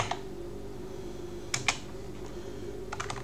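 Sparse keystrokes on a computer keyboard: a couple of sharp clicks in the middle and a small cluster near the end, fairly close, over a constant low electrical hum.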